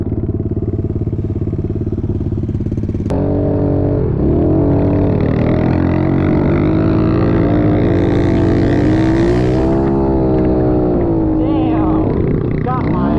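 A dirt bike engine revs hard during a race, loud and close throughout, its pitch climbing and falling as the rider works the throttle, with a sharp burst near the start.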